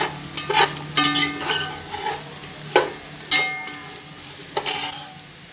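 Rice being stirred with biryani masala in a pan, with repeated scraping strokes of a spoon against the metal over a soft sizzle, the strokes coming in uneven bursts close up.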